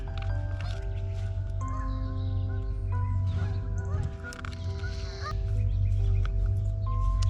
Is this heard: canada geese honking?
yes